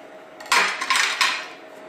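Brief scraping clatter of a spoon stirring garlic and mayonnaise in a bowl, a few quick strokes lasting about a second, close and fairly loud.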